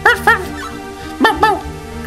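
Puppies playing in the Golden Sun video game, with four short yipping barks in two quick pairs over a steady game music backdrop.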